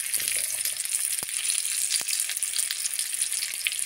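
Potatoes fry in olive oil with a steady, bright hiss of sizzling oil that fills the whole stretch, plus a couple of sharp ticks from the pan.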